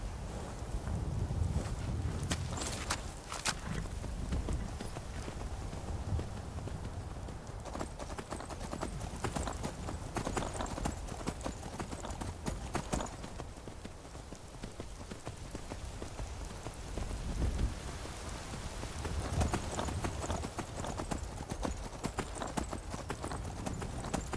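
Horse hooves clip-clopping steadily while riding in Skyrim, a continuous rhythmic trot close up, mixed with a rain-like hiss over the whole stretch.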